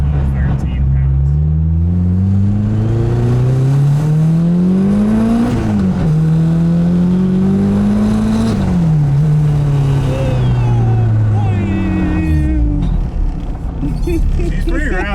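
A turbocharged K24-swapped Nissan Cefiro accelerates hard and spins its tires, the engine note climbing through repeated rising sweeps with brief drops at gear changes, loud and close from inside the car, with people talking over it.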